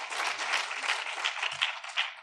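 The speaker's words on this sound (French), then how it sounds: "Merci, on vous applaudit encore." An audience at a French advertising awards ceremony applauds after a trophy presentation, a bright, continuous patter of many hands clapping with no talk over it.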